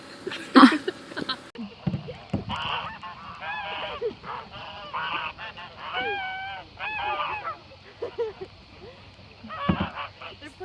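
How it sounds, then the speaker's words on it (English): Geese honk repeatedly in a noisy flock on a river, with swans nearby, their calls overlapping in bursts, with splashing and faint boat or water sounds underneath. "Scaring some swans and geese."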